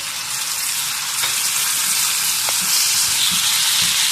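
Sliced tomatoes sizzle in a pan of fried onions for masala tinday, a steady hissing fry with soft stirring knocks, close and continuous, no talking.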